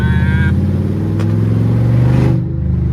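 A Camaro SS's LS3 V8 with open long-tube headers revs hard and throaty, holding a rough roar for a couple of seconds before dropping off, close by.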